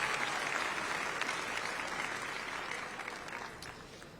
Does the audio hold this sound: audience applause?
yes